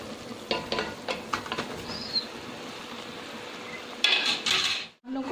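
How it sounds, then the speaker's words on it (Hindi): Cooked rice being gently stirred through jaggery syrup in a pot, soft scraping strokes and light spoon clinks over a quiet bubbling sizzle, with a brief silence near the end. "चावलों को बहुत हल्के हाथ से यूँ हिलाते हैं ताकि ये चावल टूटे ना हमारे"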